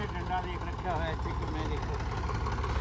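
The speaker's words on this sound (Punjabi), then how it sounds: "ਬਾਈ ਵਾਲਾ ਮੋਟਰਸਾਈਕਲ ਲੈ ਕੇ ਚੱਲਦਾ" A motorcycle engine idles steadily and close by on a rural road beside a mustard field in Punjab, a continuous low chugging rumble with faint voices in the background.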